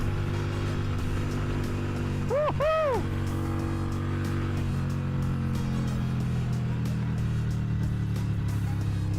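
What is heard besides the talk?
Harley 883 motorcycle engine riding up to speed over a bridge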